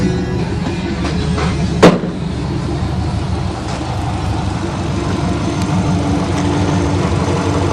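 A Subaru Legacy's 2.5 liter boxer engine runs steadily, a low even hum heard from inside the car, with a single sharp knock early on.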